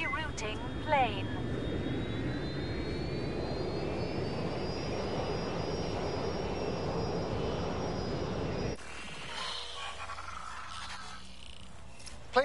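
A fixed-wing airplane's jet engines drone steadily in the Watch Dogs Legion video game, a loud continuous roar with a rising whine, then abruptly dropping to a quieter muffled hum near the end; faint voices may be present.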